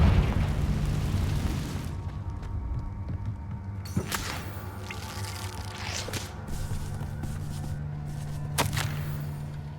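A Confringo blasting curse going off in the Hogwarts Legacy video game: a few sharp bursts around the four-, six- and nine-second marks cut through a steady low game rumble and ambient hum, with no talking.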